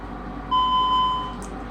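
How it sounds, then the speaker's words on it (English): A single clear electronic tone of about two-thirds of a second sounds from a Honeywell 5834-4 wireless remote during programming, standing alone over a quiet room hum. "And it beeped the second time and it confirmed."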